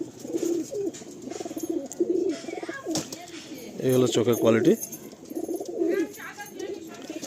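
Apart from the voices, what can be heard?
pigeon cooing while being handled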